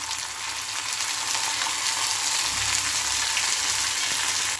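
Garlic, curry leaves and green chili sautéing in hot oil for chicken 65, a close, even, hissing sizzle with faint stirring underneath and no speech.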